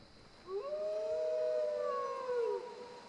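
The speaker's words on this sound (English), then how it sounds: "But I'm hearing wolves or dogs." Wolves or dogs howl in Skyrim Special Edition, kept in cages. A single long, clear, wavering howl with rich overtones rises, holds for about two seconds and then falls away over a quiet background.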